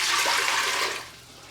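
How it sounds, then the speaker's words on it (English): Four cups of water being poured into an Instant Pot, a brief loud rushing gush that tapers off after about a second. "I'm going to put 4 cups of water in the pot here."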